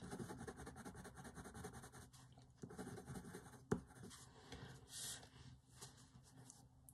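Black Widow Dragon coloured pencils scratch and rub across paper in soft, close, continuous strokes while colours are blended, with a sharper tap partway through and quieter strokes after.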